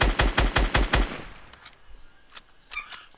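A rapid burst of about six loud gunshots in Fortnite Battle Royale, evenly spaced over the first second, then trailing off into sparse distant shots and faint game noises.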